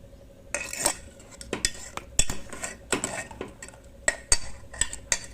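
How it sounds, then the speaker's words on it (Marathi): A spoon skimming foam off cooking toor dal, repeated sharp metallic taps and scrapes against the pot rim at irregular intervals, close and clear over a quiet kitchen background. "आता मी हे सगळा फेस काढून घेणार आहे"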